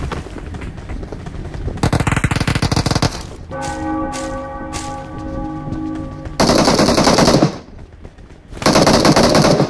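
Bursts of automatic gunfire from the mobile game PUBG Mobile, loud rapid volleys separated by a ringing, tonal game effect, with no voices.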